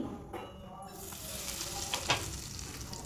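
Asafoetida sizzling steadily in hot mustard oil in a pan, a dense crackling hiss that grows louder after a second, with a few brief sharper pops.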